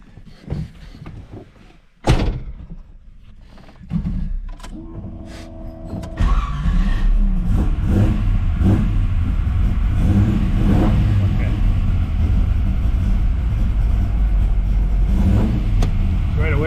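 Car fitted with new mufflers: a few clunks and a door, then the engine cranks and catches around six seconds and settles into a loud, deep, rumbling idle with slight revs, while people talk over it.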